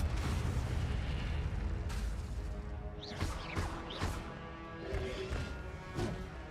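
Incendio fire spells cast in the video game Hogwarts Legacy, heard as a series of loud whooshing, crackling bursts around the middle of the clip over a dense, continuous game soundscape of rumbling effects.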